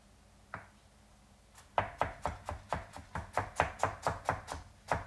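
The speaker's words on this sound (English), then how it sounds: "And then we want to julienne slice this, which is when we cut it into thin strips." A knife julienne-slices peeled ginger into thin strips on a board, one soft tap then a steady run of about fourteen crisp, evenly spaced chops, close and clear with no talk.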